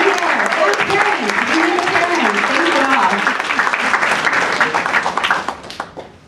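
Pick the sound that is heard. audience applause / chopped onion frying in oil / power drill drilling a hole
audience applause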